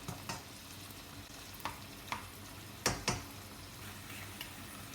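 Spaghetti puttanesca sauce with tomato, capers, anchovies and onion is stirred in a pan, a soft low sizzle broken by several distinct scraping knocks of the spoon against the pan, quiet and irregular.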